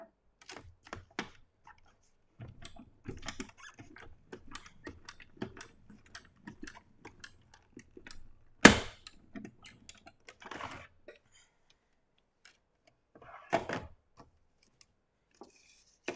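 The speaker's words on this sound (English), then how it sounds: "I'm going to run one of these babies through. I'm just running it through the cut and emboss." Die-cut and emboss machine feeding paper through, a sparse run of light mechanical clicks and ticks with one sharp louder clack midway and a short burst near the end, close and fairly quiet.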